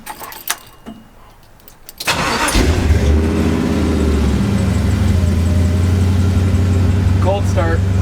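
Jeep CJ engine cold-started after faint handling noises: a short crank catches and settles into a loud, steady rumbling idle that continues close up to the end.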